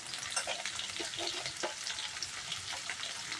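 Ridge gourd and potato fry in oil in a pan, a steady close crackling sizzle with small pops throughout, no voices over it.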